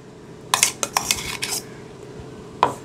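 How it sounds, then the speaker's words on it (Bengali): Spoon clinking and scraping against a bowl while ground mustard and chilli spices are mixed into mashed eggplant for an achari bhorta, several sharp close taps in an irregular rhythm with a last knock after a pause. "এবার সব কটা একসঙ্গে ভালোভাবে মিশিয়ে নেব। সমস্ত মশলাগুলো ভালো করে মিশিয়ে নিতে হবে"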